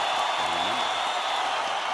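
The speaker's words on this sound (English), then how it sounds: "So we'll get a big applause." Steady, loud applause with a few whoops from a crowd, continuous and dense throughout, with a brief sung or spoken tone rising underneath.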